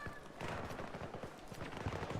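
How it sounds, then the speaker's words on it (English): Distant, muffled gunfire crackles through a dense battle ambience in the video game Battlefield 2042, with no clear individual shots standing out. "Who the hell is shooting me?"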